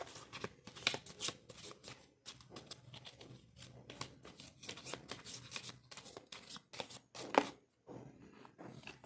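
Deck of tarot cards being shuffled by hand, a run of quick soft riffling and flapping bursts in an irregular rhythm, close and quiet, no talk.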